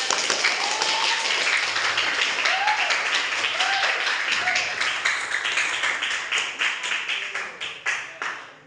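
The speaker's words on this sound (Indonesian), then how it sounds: "tepuk tangan dulu" Classroom applause from students fills the room, a dense, steady patter that thins toward the end into separate, sharper claps as it fades out, with faint voices briefly heard within it.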